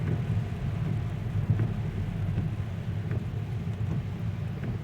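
Continuous rain in Jeddah, Saudi Arabia, pours down in a steady, dense hiss with a low rumbling undertone, no voices present.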